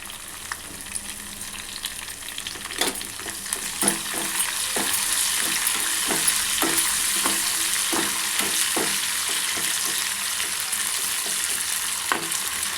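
Dried red chilies, curry leaves and garlic fry in hot oil with a loud, steady crackling sizzle and frequent sharp spits and pops throughout.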